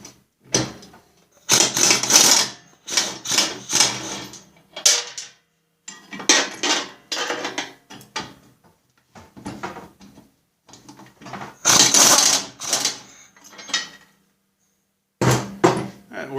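An impact wrench removes the two blade bolts on a Snapper rear-engine riding mower, sounding as several loud, close, rattling bursts of varying length separated by quiet gaps.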